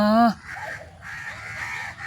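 A crow gives a loud, harsh caw right at the start, then several crows keep cawing more faintly in the background.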